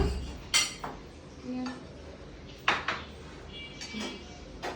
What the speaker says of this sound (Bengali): মিনি প্লেট আনো।